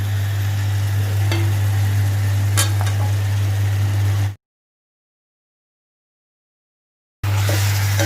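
Potatoes and jackfruit seeds are stirred into chicken curry in a pan, with soft scraping and sizzle over a steady low hum and a few sharp clinks, broken by a brief silent gap partway through.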